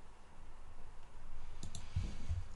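Typing on a computer keyboard: a brief cluster of soft, close key clicks near the end over a steady background hiss, with no talking.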